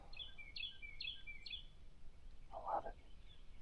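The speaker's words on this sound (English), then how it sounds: "just listen to them birds" Birds sing outdoors in early spring on a lake or river, a series of four quick high chirping calls in steady rhythm, then a lower burst of calling, all fairly near over a quiet background with no talking.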